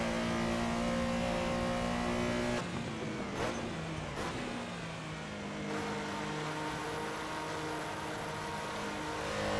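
Porsche Carrera engine in Assetto Corsa at Silverstone, a loud sustained drone with rising and falling revs and a brief drop around a gear change, no speech.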